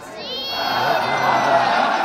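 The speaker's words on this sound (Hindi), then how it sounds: "ये है भीड़, ये है तस्वीर, कितनी ज्यादा बड़ी संख्या में लोग यहाँ पर पहुंचे हैं" A large crowd of devotees presses at the Ram Mandir entrance, a loud, steady roar of many overlapping voices, children among them, filling the whole space without a break.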